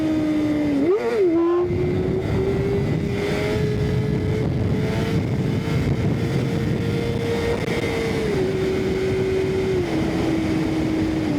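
A Kawasaki ZX6R sport motorcycle engine revving loudly and steadily up close during a wheelie on a highway ride, holding a high droning pitch after a brief blip, with heavy wind rush throughout.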